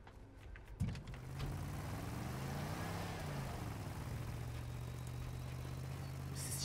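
An old mafia-style car engine in a video game idles and revs after a short clunk, a steady low drone that rises and falls slightly, close and continuous with no talking.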